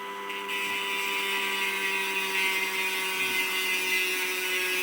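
A rotary bit drilling into wet Tasmanian jade, producing a sustained high-pitched whirring grind over a steady motor hum, constant and near throughout.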